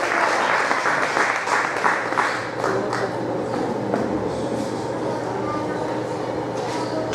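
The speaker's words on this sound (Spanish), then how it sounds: "Bríndenle un fuerte aplauso al Señor." A church congregation at a preaching conference claps steadily and strongly for several seconds, a continuous wash of hand-clapping mixed with voices and cheers.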